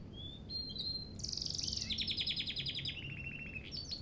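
A small bird in the video game Heavy Rain sings a run of bright, high chirps and rapid trills, clear and close over a quiet ambient background, with no talking.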